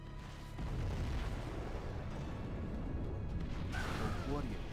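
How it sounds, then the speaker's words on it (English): Heavy booming quad cannon fire in a video game rumbles on steadily after a sudden onset, dense and continuous, with a brief whooshing burst near the end. "Quad cannon."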